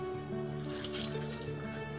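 Rice grains going into a pressure cooker with water while cooking potato rice for a one-year-old, a soft continuous liquid slosh and squish up close, steady for the whole stretch with no talk.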